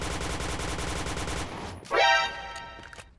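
Rapid automatic gunfire from a new gun in Point Blank, a steady fast burst of shots that cuts off after about a second and a half, followed by a mechanical reload-like clack and a faint ringing tail.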